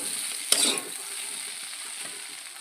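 Potato, plantain and eggplant frying in a pan give a steady close sizzle, with a brief louder crackle and stir near the start before settling back to an even hiss.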